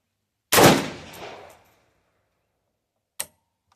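A 3D printed firearm fires a single loud close shot that rings and decays over about a second, followed after a pause by a short sharp mechanical click as it cycles.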